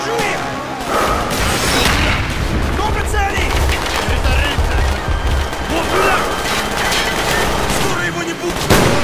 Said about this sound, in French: On vous tire dessus!